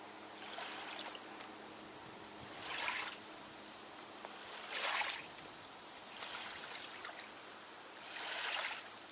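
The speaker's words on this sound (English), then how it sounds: "Oh, small waves from the boat that has passed here." Small waves from a passing boat lap at a shore, swelling in three or four gentle washes of water that rise and fade over a steady low background.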